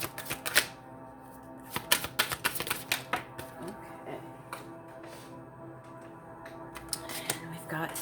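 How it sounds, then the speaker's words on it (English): Theme cards being pulled from a deck during a water-sign reading, heard as crisp close-up clicks and flicks of card stock, clustered in small bursts with quieter gaps between them. "I'm just going to pull a couple."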